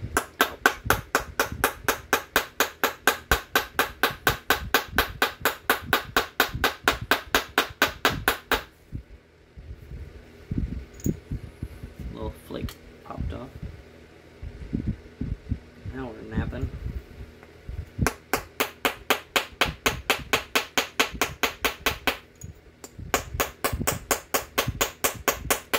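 A hammer stone pounding a piece of copper to flatten it: long runs of rapid, evenly spaced sharp strikes, close and loud, broken by a stretch of slower scattered knocks before the steady pounding resumes.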